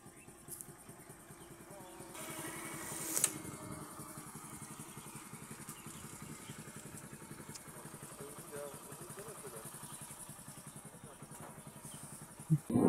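Motorcycle riding along a village road, a steady low engine drone with fine rhythmic pulsing throughout, moderately near, under a voice talking.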